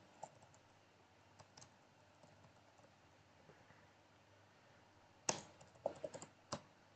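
Keystrokes on a computer keyboard as a username is typed into a simple web form, faint scattered clicks early on, then a louder burst of quick taps near the end, alone with no talk.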